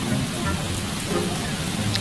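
Rain falling in a steady, dense patter that fills the whole stretch evenly, close and fairly loud, with no distinct drops standing out.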